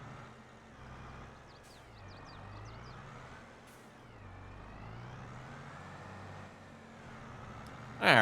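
Truck engine running in a farming simulator game during snow clearing, a steady low drone with short hisses of air brakes in places and a sudden loud burst at the very end.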